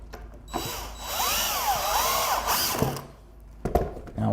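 A power drill drives screws into a wooden smoker rack frame built from pallet wood, with a close, loud whirring run of about two and a half seconds that pitches up and down, followed by brief clicks.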